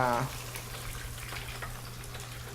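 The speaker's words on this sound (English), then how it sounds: "we're going to go ahead and continue frying chicken" Chicken frying in oil, a steady sizzle crackling throughout, a soft continuous hiss with faint pops, after a brief louder burst at the start.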